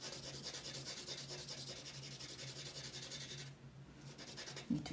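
A yellow colored pencil shades lightly across paper with a soft, continuous scratchy rubbing, faint and close. It pauses briefly near the end, then resumes with a small tap.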